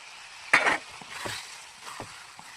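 Eggs dropped one at a time into a pan of spice masala that has been cooked down with water, giving a sharp burst of sizzling followed by softer, intermittent frying crackles close by.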